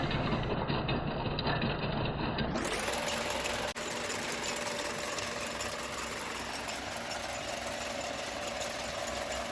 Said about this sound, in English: these really cool machines that braid the rope together. They go so fast I had to slow it down to see what was going on